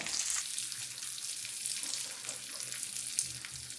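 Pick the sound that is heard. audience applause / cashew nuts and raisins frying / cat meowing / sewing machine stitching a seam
cashew nuts and raisins frying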